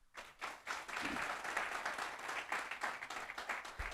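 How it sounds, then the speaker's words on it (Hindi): An audience claps together at a Hindi-language motivational talk on team speed, a dense, steady wash of applause that holds for the full few seconds at moderate distance. "अगर मेरी बात से सहमत है तो ताली बजा दीजिए।"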